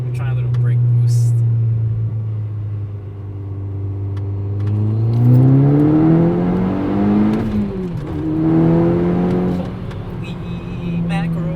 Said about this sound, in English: so we're trying a little brake boost